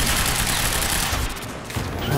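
Gunfire in the Quantum Break video game, a loud, rapid fusillade of shots that thins briefly midway and then resumes, heard with no talking over it.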